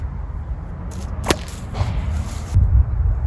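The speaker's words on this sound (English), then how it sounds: "Now I'll throw the whip and move my hand in at the same time." A whip thrown with the hand drawn in gives one sharp, loud crack, with soft swishes and rustling before and after.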